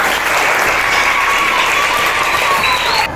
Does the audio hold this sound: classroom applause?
yes